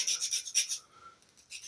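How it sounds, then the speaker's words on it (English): A file rasps across a small plastic part of a P-51B Mustang model aircraft kit, with several quick, close scraping strokes followed by a brief quiet pause and one more faint stroke. "filing down slightly."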